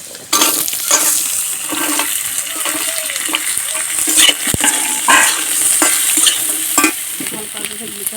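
Potatoes sizzle loudly in hot oil with nigella seeds, a dried chilli and chopped onion, stirred with scraping strokes in a pan for a cabbage curry.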